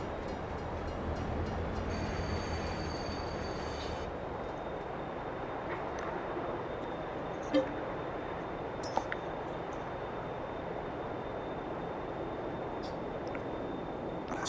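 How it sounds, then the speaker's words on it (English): A video game freight train sits being loaded with cargo, giving off a faint, steady rumbling drone with a couple of brief clanks and no speech. "So right now I'm just filling up the train."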